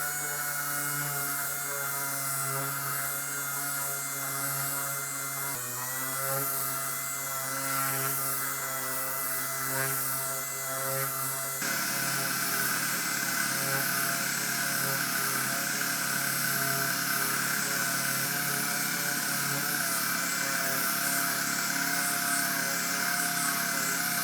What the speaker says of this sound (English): Now I can sand the rest of this fender out.